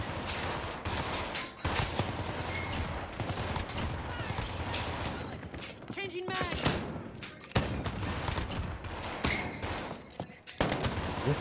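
Rapid gunfire from a Modern Warfare survival match, dense bursts rattling almost continuously with brief gaps, loud and close, while players shout to each other over it.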